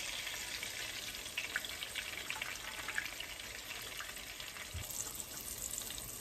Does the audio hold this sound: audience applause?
no